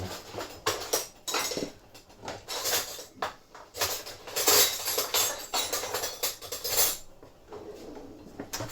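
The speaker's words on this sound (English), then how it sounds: "let's get a big spoon" A big spoon is fished out from among dishes and cutlery, making a rapid run of metallic clinks, clatters and scrapes up close, uneven and bursty over several seconds with no speech.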